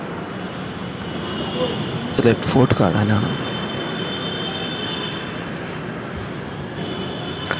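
A Delhi Metro train runs with a steady, loud rumble and rail noise throughout, while a person talks briefly over it partway through.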